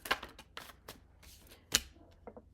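Tarot cards shuffled and drawn by hand: a quick, quiet sequence of papery riffles and flicks at close range, with one sharper snap near the end.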